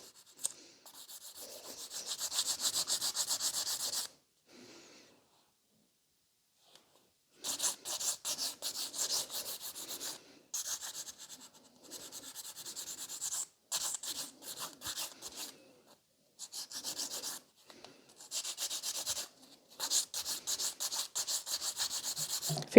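A hand file rasps over a sculpted fiber gel stiletto nail, giving bursts of dry scratchy strokes, some quick and rhythmic, broken by short pauses, close and fairly loud.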